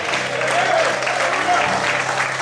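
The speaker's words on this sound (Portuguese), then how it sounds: "Você pode aplaudir e glorificar o Senhor." A church congregation applauds during a worship service, giving continuous, fairly loud group clapping with voices mingled in the crowd.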